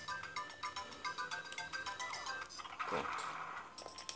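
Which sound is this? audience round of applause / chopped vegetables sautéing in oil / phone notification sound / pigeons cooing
phone notification sound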